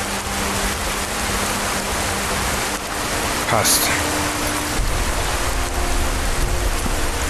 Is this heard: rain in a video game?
yes